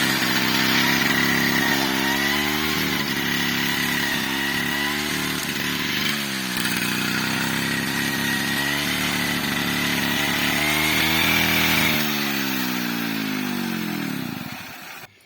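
A mowing machine cuts a third crop of alfalfa in a field, its engine droning loud and close with a rising and falling pitch before winding down at the end.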